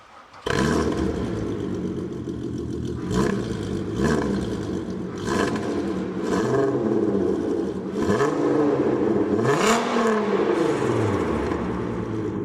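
A VW GTI Roadster Vision Gran Turismo race car in a video game, engine starting up then revving repeatedly with rising and falling sweeps, loud and close, no talk.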